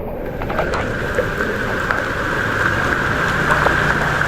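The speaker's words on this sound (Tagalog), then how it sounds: "bulwak ng tubig agad oh" Rushing flood water from a clogged drain gushes continuously with a dense, churning roar, loud and close, without pauses.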